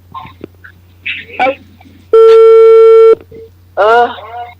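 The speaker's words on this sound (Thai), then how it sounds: "โทรศัพท์พี่พรนั่นแหละมีปัญหา" Steady electronic telephone line tone lasting about a second from a faulty phone call into a Thai radio phone-in program, loud and clear between stretches of talk and a few short beeps.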